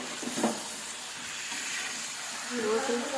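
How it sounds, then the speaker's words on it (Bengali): Eggplant and potatoes frying with spices in a pan for a mixed vegetable curry, a soft steady sizzle with a few stirring scrapes, close and fairly quiet. "এই বেগুন, আলু সব কিছু একসঙ্গে দিয়ে দিচ্ছি। আর একবার কষে নেব"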